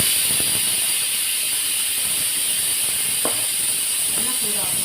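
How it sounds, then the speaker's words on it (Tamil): Oil heats in a pan before tempering while pulicha keerai is being cooked, giving a steady, close hiss and sizzle that runs without a break, with faint background sounds. "எண்ணெய் சூடாகும்."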